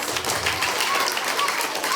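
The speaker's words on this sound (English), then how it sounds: "Give these little people a round of applause." Dense applause from a school assembly crowd, steady and continuous throughout, fairly close and loud.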